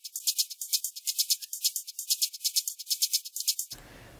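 Sidechained electronic hi-hats, a groove pattern layered over straight 16th-note short hats, tick in a rapid pulsing rhythm that swells and ducks on each beat, bright and alone, then stops abruptly near the end.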